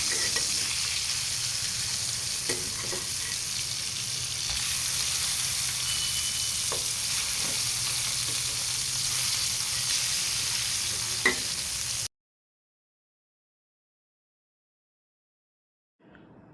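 Turned pieces of rohu fish frying in oil on a flat pan give a loud, continuous close-up sizzle and crackle with a few sharp pops, running for about twelve seconds before stopping abruptly.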